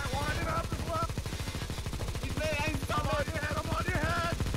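Rapid automatic gunfire from the CS:GO video game rattles in fast, even bursts throughout, with excited voices shouting over it.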